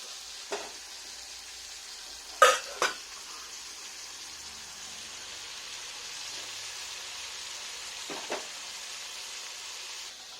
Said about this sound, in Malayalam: അപ്പോൾ നമ്മൾ ചെമ്മീൻ അവിടുന്ന് ഫ്രൈ ആവുന്നുണ്ട്